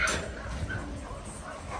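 Puppies at an off-grid homestead yip and bark briefly, a sharp burst at the start followed by fainter whimpery sounds, close by and fairly quiet.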